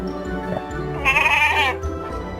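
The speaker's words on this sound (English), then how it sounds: "A goat." A goat bleats once, a wavering nasal cry over soft background music.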